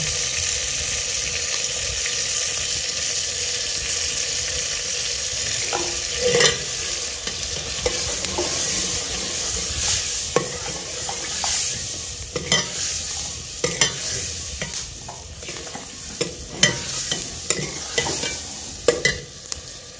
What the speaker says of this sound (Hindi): तो इसमें लहसुन है और घी डाल दिया है।